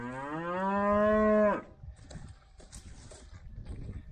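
A cow on a farm lets out one long, loud moo lasting about a second and a half, followed by quiet farmyard rustling and faint shuffling noises.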